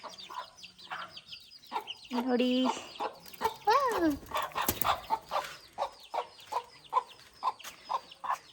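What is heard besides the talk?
chickens clucking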